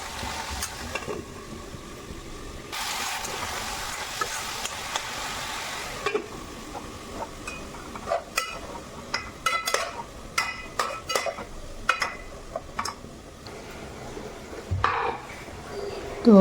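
Chicken cooks in a pan with a low sizzle underneath, while a utensil stirs and scrapes it in irregular clinks and scuffs that grow busier toward the end.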